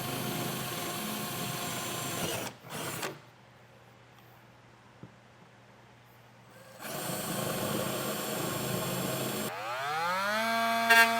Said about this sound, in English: we're going to take our drill bit and punch out these holes and then make our cut